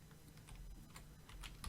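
Code being typed on a computer keyboard during a beginner C# lesson in Unity, a quiet run of irregular soft key clicks with a few louder taps near the end, no voices.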